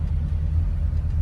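A freshly rebuilt Chevrolet El Camino 350 V8 runs while driving, a steady low rumble and drone of engine and road noise with no change in pace and no voices.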